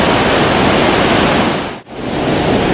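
Naena Falls in Myoko, Niigata, roars with a dense, steady broadband rush of falling water. The sound stays loud and close throughout, dropping out for a brief moment near the end before returning.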